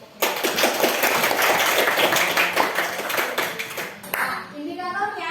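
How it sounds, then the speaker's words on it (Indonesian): A classroom audience claps during a teaching lesson, a dense burst of fast hand clapping that stays loud for about four seconds and then stops abruptly, followed by a short trailing sound. "Beri tepuk tangan untuk"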